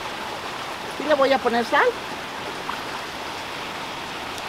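Steady broadband rush of stream water at a ranch spring runs throughout, with someone speaking briefly over it near the start.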